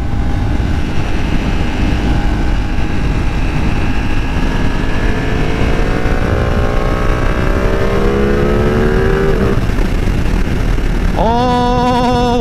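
A 2020 Ducati Panigale V2 twin-cylinder sport bike pulls hard in third gear around 6000 RPM, its engine note climbing steadily under loud wind rush, then a quick shift and the pitch rising again near the end.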